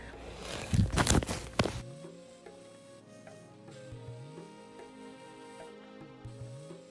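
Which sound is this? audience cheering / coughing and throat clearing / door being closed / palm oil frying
palm oil frying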